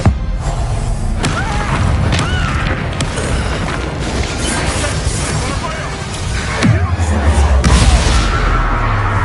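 A Bombarda blasting spell exploding in the Hogwarts Legacy video game, deep booming crashes and rumble inside a dense, loud battle mix with shouting voices and game noise throughout.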